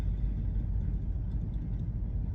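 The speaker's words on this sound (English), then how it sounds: "Kicks on the gas motor sound there." Inside a 2023 BMW XM plug-in hybrid, the gas engine kicks on with a steady low rumble and drone that holds evenly throughout, with no talking.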